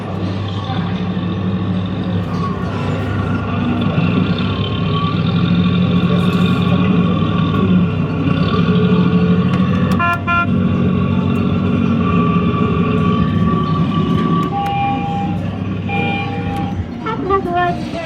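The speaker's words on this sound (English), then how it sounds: "that is the standard forklift truck and kiddie ride by Jolly Roger, sighted at gold mine amusements in Canvey Island." A Jolly Roger forklift truck kiddie ride at an amusement arcade on Canvey Island runs with a steady electronic hum and tones, overlaid by busy arcade noise and beeps, with a person talking partway through.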